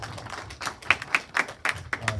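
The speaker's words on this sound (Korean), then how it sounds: "박수 부탁드리겠습니다" Scattered, distinct claps from a small audience at the close of an academic forum talk on school history textbooks, sparse and uneven rather than a full ovation, fairly quiet.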